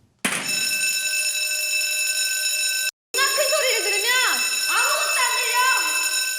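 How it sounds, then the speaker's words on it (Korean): A fire hydrant alarm bell rings loudly and continuously, a bright steady electronic tone that stops briefly and resumes, while a voice speaks over the second half. "매번 들리는 소화전 경보음"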